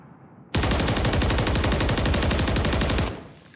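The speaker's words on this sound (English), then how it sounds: "just shoot this left side of the wall and just shoot a whole magazine at it" A gun in Modern Warfare 3 empties a full magazine at a wall, a continuous rapid burst of loud, evenly spaced shots lasting about two and a half seconds before cutting off.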